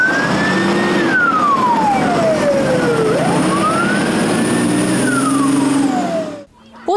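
A fire engine siren wails on a real call to a burning trash bin on a street in Russia, its loud, close tone sweeping slowly up and down in long cycles before cutting off abruptly.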